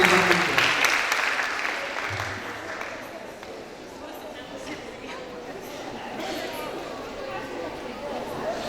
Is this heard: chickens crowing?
no